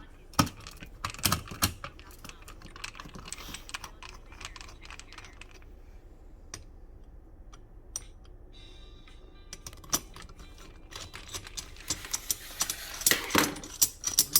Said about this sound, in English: You're going to see 3 screws that you can use a flathead or a Phillips head screwdriver to loosen.